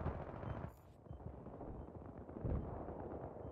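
Gunfire and explosive blasts in the Battlefield 3 video game, a dense rumbling barrage with a brief lull before another heavy boom, loud and continuous.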